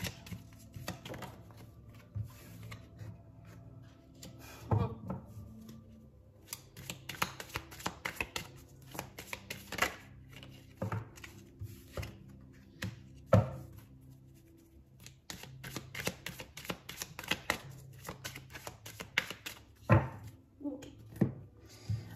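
Tarot cards are shuffled and drawn in a horoscope reading, with close, dry clicks, riffles and taps of card stock against a surface coming in irregular bursts, some soft speech mixed in.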